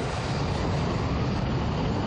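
Lockheed C-5 cargo plane's engines at maximum takeoff thrust, a loud, dense, continuous broadband roar holding steady throughout with no voices.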